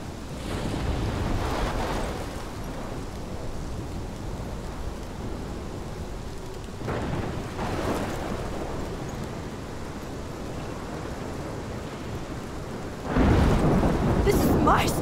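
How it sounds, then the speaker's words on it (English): A thunderstorm in the video game Life Is Strange brings steady rain under deep rolling thunder. Three separate rumbles swell and fade, and the last one hits hardest and closest. "This is my storm."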